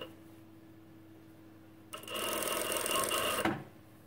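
A four-thread machine runs a seam on an off-centre twist top in one steady burst of about a second and a half, loud and close, with a hum before it and no talk.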